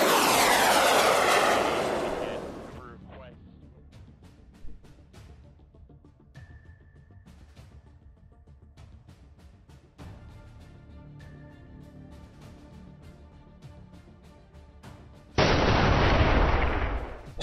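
Combat in the Command: Modern Operations video game opens with a loud aircraft engine roar, gives way to scattered sharp gunfire bursts and cannon shots, then ends with another loud blast of engine noise.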